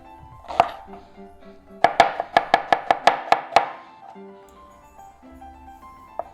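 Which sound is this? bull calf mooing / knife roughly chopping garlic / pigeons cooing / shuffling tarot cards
knife roughly chopping garlic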